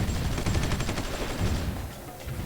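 Artillery fire in the strategy game Supreme Ruler 2020 forms a loud, sustained barrage of overlapping booms and crackling shots that rolls on without pause before easing slightly near the end.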